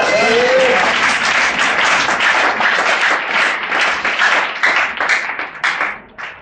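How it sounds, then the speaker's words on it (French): A church congregation breaks into loud, sustained applause to acclaim the Lord. The clapping is dense and fills the space, then thins out and turns more ragged as it fades toward the end. "Est-ce que quelqu'un peut acclamer le Seigneur?"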